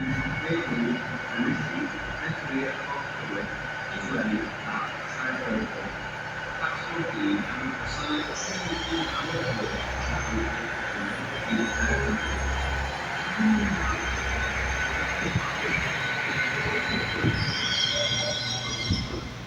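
A Transport for Wales Class 197 train rumbles and rolls into Swansea High Street station with clattering wheels and squealing, while voices talk over the noise.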